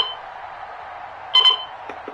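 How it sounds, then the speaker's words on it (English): A brief electronic alarm beeps once, sharp and bright, over a steady murmur of background noise during a televised American football game. "Why is your alarm going off tonight?"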